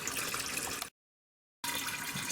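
Rainwater from a catchment system pours into a washing machine for off-grid laundry, a steady broadband rush of filling water heard in two stretches with a brief silent gap between.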